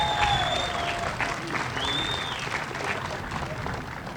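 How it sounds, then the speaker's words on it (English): An audience at a courthouse renaming ceremony applauds steadily, a moderate wash of clapping with some crowd murmur and voices mixed in, sustained evenly for several seconds. "Let's give Mr. Guy a round of applause."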